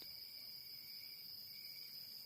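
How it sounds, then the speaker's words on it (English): Crickets chirp in a steady continuous high trill through the quiet of dusk over open grassland, faint and unbroken with no voices. "Judea was filled with a symphony of crickets, and the whisper of rustling grass accompanied the wind."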